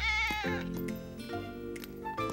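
A cartoon cat meows in drawn-out, wavering cries, several in a row, close and clear, with bits of music in the background.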